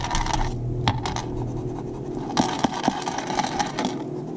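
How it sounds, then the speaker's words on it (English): A metal bracelet rattles and clicks in small bursts while a pencil mark is lightly rubbed out with an eraser during card making, the scratchy rubbing continuous and close. "My bracelet is making noise"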